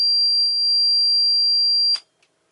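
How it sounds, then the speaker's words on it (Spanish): Electronic alarm on an Amel sailboat signalling that the bilge pumps have lost power: a steady, loud high-pitched tone holds for about two seconds, then cuts off with a short burst and a faint final chirp. "Esta alarma nos indica que las bombas están sin corriente."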